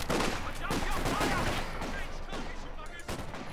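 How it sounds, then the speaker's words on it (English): Vickers machine gun on a Universal Carrier laying down suppressing fire in Company of Heroes 2, dense rapid bursts mixed with other battle gunfire and explosions, loud and continuous, with faint talk underneath. "Actually, gets one of the abilities off there for the suppressing fire, so he manages to get suppression on the Volksgrenadier squad."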